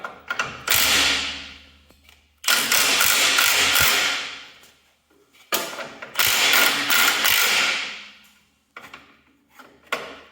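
A lock nut being tightened by hand on a hydrostatic lever linkage: rapid ratchet clicking in three long, loud bursts separated by short pauses, ending with a few brief clicks, close up with no talking.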